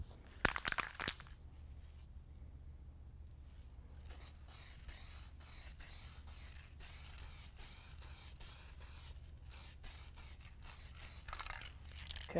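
A spray gun lays a primer coat on a car body panel, a continuous close hiss broken by regular short gaps as the trigger pulses, with no talk.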